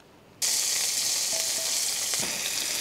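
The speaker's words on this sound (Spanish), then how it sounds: "Ponemos una sartén al fuego con un par de cucharadas de aceite a calentar. Cuando ya está caliente, añadimos la cebolla picada." Chopped onion drops into hot oil in a frying pan and sets off a sudden loud, steady sizzle that carries on close by, with a few faint clinks mixed in.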